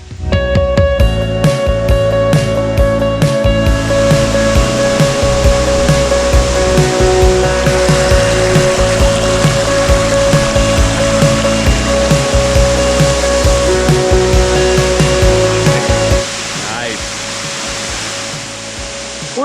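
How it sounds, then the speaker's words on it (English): Ranger Falls in Savage Gulf State Park, Tennessee: a continuous broadband rush of falling water heard from the trail, loud and steady throughout, with small bumps and rustles on top and a slight drop in level near the end. "I think I can hear the falls"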